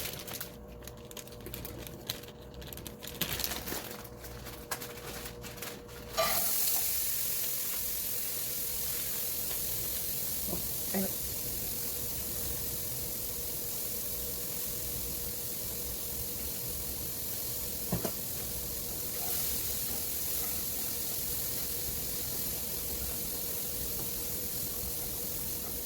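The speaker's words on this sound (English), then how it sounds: "Oh, mixed vegetables now." Mixed vegetables seasoned with garlic salt hissing in a pan with a splash of water: after a few seconds of light clatter, a steady broadband sizzle starts abruptly and holds evenly at moderate volume, broken by a couple of faint clicks.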